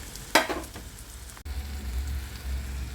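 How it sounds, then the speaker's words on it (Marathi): Previously fried potatoes hit a hot pan with peas, causing a sharp burst of sizzle at the start that settles into a steady, close frying hiss. "आपण यामध्ये हे सगळे बटाटे ॲड करूया"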